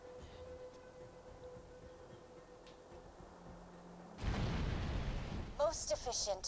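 A Hyperion mortar fired at Overlook in a video game, a sudden heavy roaring launch that cuts in after a quiet stretch and sustains loudly, followed by chirpy electronic effects and a voice.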